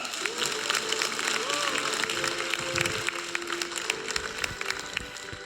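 An audience at a blockchain conference claps to welcome a professor to the stage, scattered clapping under a backdrop of music tones and crowd murmur that fades slightly toward the end.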